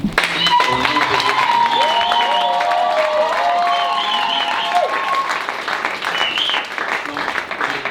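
A church congregation applauds and cheers loudly and steadily throughout, with a voice speaking over the clapping.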